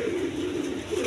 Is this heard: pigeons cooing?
yes